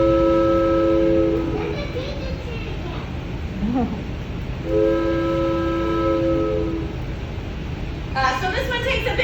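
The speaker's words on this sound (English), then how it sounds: "this is my adult train whistle" Someone blows a hand-held adult train whistle with a chord-like tone, sounding two long, loud blasts separated by a pause, close up, with a little voice sound in between.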